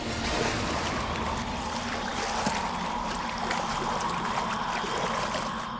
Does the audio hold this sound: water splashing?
yes